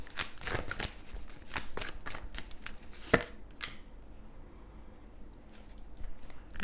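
Tarot cards shuffled by hand in a series of quick riffling, slapping bursts with a sharp snap partway through, close and fairly quiet, with no talking.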